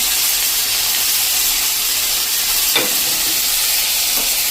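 Potato, peas and carrot tipped into a hot oiled pan for masala bun dosa filling, giving a steady close sizzle with one brief clatter midway; no talk.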